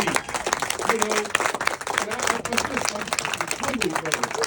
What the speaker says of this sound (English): Everybody stand on your feet, man. Give this brother a round of applause.